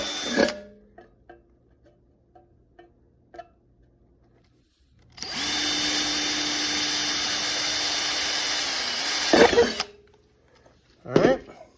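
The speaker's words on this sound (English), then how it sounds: "take your 1/8 inch drill bit and you're going to drill a couple of holes right through here" A power drill with a 1/8 inch bit whirs steadily for about four seconds drilling holes in a rock tumbler, loud and close, with a few knocks and handling clicks before and after.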